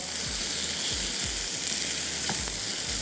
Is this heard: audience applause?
no